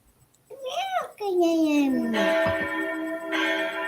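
A single voice imitates a church bell chime, sustaining a sung, ringing 'ding'-like tone that bends in pitch and then holds steady for a few seconds, close and fairly loud.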